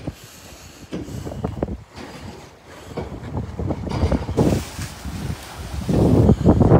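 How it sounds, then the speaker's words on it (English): Wind buffets the microphone outdoors at Harwich on a blustery day. Gusts rise and fall in uneven surges, growing stronger and rougher toward the end. "Bit windy today."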